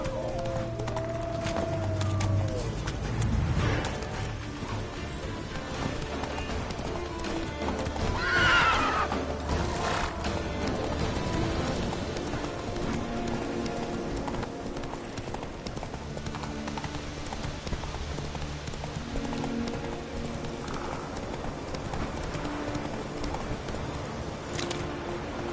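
Roach, the horse in The Witcher 3, gallops with steady, rhythmic hoofbeats that run throughout, with a brief whinny and some ambient bird sounds in the background.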